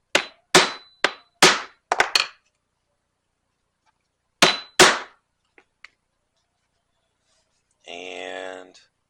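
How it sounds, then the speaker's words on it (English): A punch is hammered through thin leather to make a rivet hole, with sharp, close blows coming in a quick run of about six and then two more after a pause. A brief voice is heard at the end. "So I've got the same thinner type leather. Let's put a hole for the rivet."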